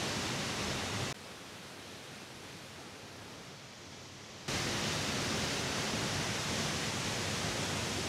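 Nonok Falls in Quezon pours as a broad, even roar of falling water, steady and loud, briefly duller and quieter in the middle before returning to full strength, with no voices.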